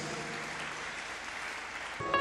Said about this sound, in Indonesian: Berikan tepuk tangan dulu bagi Tuhan Yesus